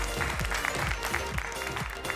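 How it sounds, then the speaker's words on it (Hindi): A crowd applauds at a prize draw during a textile fair as a refrigerator is awarded, fairly faint and steady clapping under a constant low hum of the hall. "तालियां हो जाए प्लीज।"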